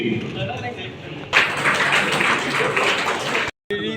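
Applause and clapping from a crowd at a political rally in Bikaner, a loud burst of sustained clapping rising suddenly and rolling on for a couple of seconds before cutting off, with a speaker's voice before and over it.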